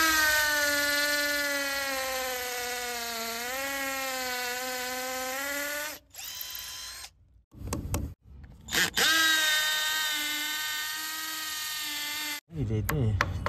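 INGCO 12V cordless drill drilling a hole in a wall, a steady high motor whine with a slight pitch dip, stopping and restarting after a few short bursts, loud and close.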